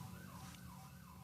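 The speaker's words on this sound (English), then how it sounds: "It's a fire truck." A fire truck siren wails outside, faint and distant, its rising and falling tone riding over a steady low rumble of traffic.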